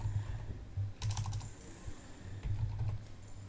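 Steady typing on a computer keyboard, with clustered rapid keystrokes in two short bursts, close and clear, with no talking.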